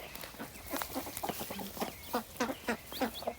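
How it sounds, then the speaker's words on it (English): Young chicks peep in quick high chirps at a farm, mixed with soft clucking from a hen, close and fairly faint, with around a dozen peeps scattered across a few seconds. "the chicks do come through some of the fencing"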